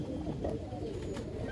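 Domestic pigeons kept for breeding coo softly and continuously in a low, murmuring texture close by, with no talk.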